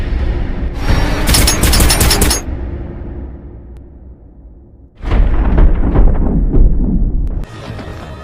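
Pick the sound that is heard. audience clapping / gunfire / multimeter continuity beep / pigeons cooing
gunfire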